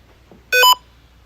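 A short electronic beep from a detector device in a house thought to be haunted, a single clear harmonic tone lasting about a quarter second, fairly loud and close against a quiet room.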